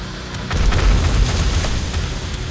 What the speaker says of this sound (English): let's go for a bit of pipe bomb action